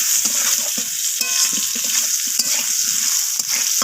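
Potato pieces with salt and turmeric fry in oil with a continuous close sizzle, while a utensil stirs and scrapes the pan with irregular knocks.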